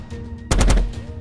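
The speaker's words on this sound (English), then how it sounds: "Ulrich's body was shredded as the phased projectile cannon tore through his armor" A phased projectile cannon fires once, a loud rapid burst of pulsing shots lasting about half a second, close and alone after a low hum.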